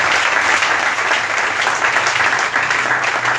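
A church congregation applauds loudly and continuously throughout a worship service, a dense, close wash of clapping with no break.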